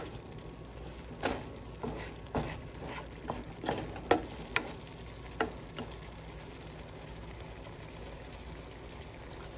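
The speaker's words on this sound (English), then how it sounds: "I probably should have put the onion in first and then the butter, but I didn't." Onions cooking in butter in a pan, a soft continuous sizzle broken by several stirring scrapes and knocks at uneven intervals, close and moderate in volume with no talking.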